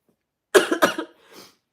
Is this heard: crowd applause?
no